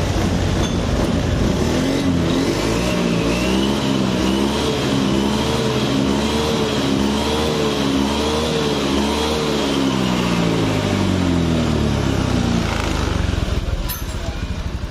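Honda Beat 2015–2016 scooter engine, freshly rebuilt after running hot and sluggish, idling and revving up and down in repeated swells, loud and close, with a voice talking underneath.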